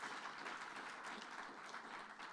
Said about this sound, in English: Let's give another round of applause to this panel.